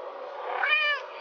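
A single drawn-out cat meow, close and clear, rising and then fading over about a second.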